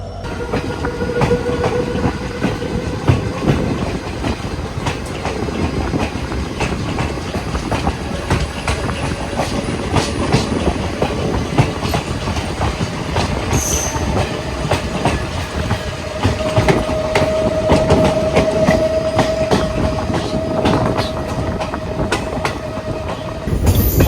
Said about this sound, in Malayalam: ഇപ്പോൾ ഈ വണ്ടിക്ക് ഡീസൽ ലോക്കോ ആണ്.